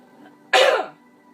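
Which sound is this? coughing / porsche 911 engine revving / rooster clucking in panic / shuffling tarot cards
coughing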